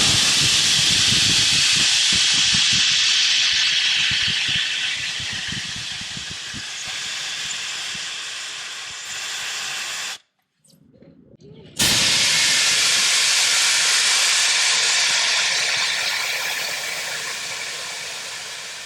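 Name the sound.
air rushing out through Apex Designs fast air valve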